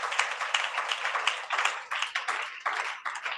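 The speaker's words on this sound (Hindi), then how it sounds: "जोरदार ताली बजाकर धन्यवाद दो।" A church congregation at a Friday meeting claps loudly and steadily for a few seconds in dense, overlapping rounds of applause heard close by.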